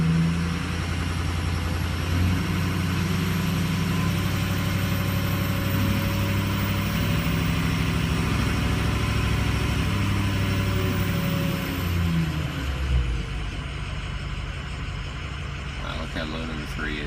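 Harley-Davidson motorcycle engine idling after a cold start, with a steady, loud, rumbling idle and a high whine that holds for most of the stretch before the engine note drops near the end.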